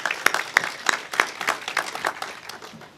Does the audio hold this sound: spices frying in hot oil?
no